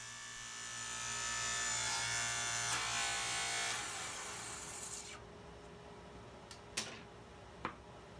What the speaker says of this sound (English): I wanted a nice 15 degree bevel on the inside of this frame, so I started making that cut at the table saw